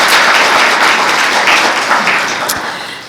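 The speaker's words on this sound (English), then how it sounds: "let's give Claire a round of applause" A crowd applauds at a university faculty authors and artists celebration, with dense, loud, continuous clapping that fades slightly toward the end.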